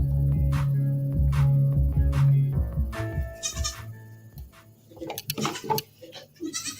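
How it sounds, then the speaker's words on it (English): Nigerian dwarf goats bleat in a series of loud, close, wavering cries, several calls in the first half followed by shorter, quieter bleats and scuffling noises. "Back to some Nigerian dwarf goats."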